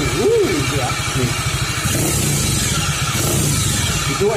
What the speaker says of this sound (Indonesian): Itu efek gigi dari gearboxnya yang sudah aus, mulai aus di sini ya.